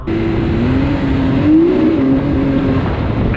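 Turbocharged engine of a Can-Am Maverick X3 X DS Turbo RR side-by-side revving and accelerating hard, a loud steady drone that climbs in pitch midway, close by with no talk.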